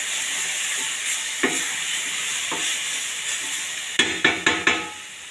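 Garlic fries in a little oil in a pan with a steady bright sizzle and a few stirring taps, ending in a quick series of four sharp utensil knocks, close and without talk.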